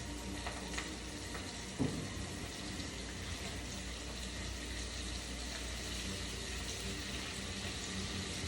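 Chicken gizzards frying in hot grease, a steady quiet sizzle and crackle with a soft splash near the start, no talking over it.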